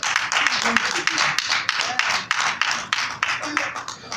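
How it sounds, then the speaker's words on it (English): A church congregation claps hands in a lively, rhythmic burst of sharp, close claps, steady and fairly loud throughout. "You ought to clap your hands."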